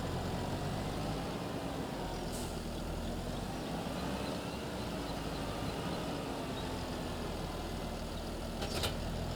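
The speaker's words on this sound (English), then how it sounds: "Let's quickly attach the planter to the tractor." Steady drone of a tractor engine with a planter attached in a farming video game, a constant, even rumble running without pause and no talking.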